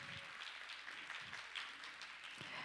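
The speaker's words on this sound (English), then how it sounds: "Please give her a big round of applause" Audience applause at an international conference on women and peace, faint and distant, a soft steady patter of many hands with no voices over it.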